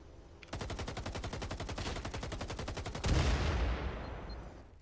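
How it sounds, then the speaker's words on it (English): In the video game Firewall Zero Hour, weapons fire at planted mines in a fast, steady automatic stream of shots. It gives way to a denser, rougher roar of fire in the final seconds, moderately distant and without speech. "I think they're shooting on my mines."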